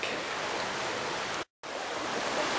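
Panther Creek, a Georgia stream near where it joins Little Panther Creek, rushes in a constant, dense hiss of flowing water, close and even in level, broken by a brief moment of total silence midway.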